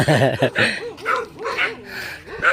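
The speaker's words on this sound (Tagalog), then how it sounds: "Madaming aso." Several dogs bark and yip in quick bursts close by, with people talking over them.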